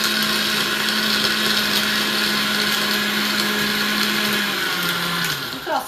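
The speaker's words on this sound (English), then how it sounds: "So here's another handful of ice into my blender." Blender crushing handfuls of ice for a frozen mudslide, a loud steady motor whine with grinding rattle, its pitch dropping as it slows down at the end.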